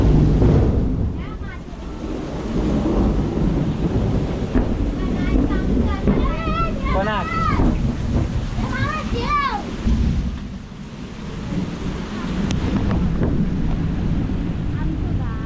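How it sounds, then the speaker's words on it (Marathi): Low thunder rumbles over steady monsoon rain and gusting wind in rural Konkan, with people talking and exclaiming partway through. "आवाज ऐका गडगडता तो"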